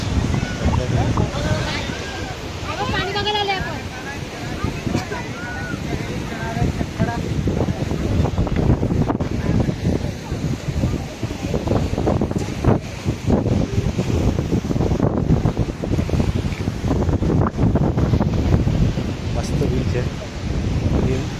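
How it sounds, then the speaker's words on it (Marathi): Wind and surf on Alibag beach on the Maharashtra coast, a steady broadband roar of breaking waves and gusting wind buffeting the microphone throughout, with people talking over it. "आता आम्ही आलो आहे अलिबाग बीचला"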